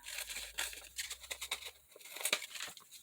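Glued paper and cardboard scraps being cut out by hand, a quiet run of close crisp snips and papery crinkles with brief pauses, no voices.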